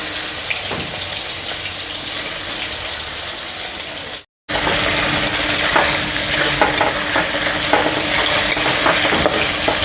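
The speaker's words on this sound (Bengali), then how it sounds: "এখন একটু লাল লাল করে আমরা ভেজে দেব" Prawns with salt and turmeric fry in hot oil in a pan, a loud continuous sizzle and crackle with a short silent break midway, no talking.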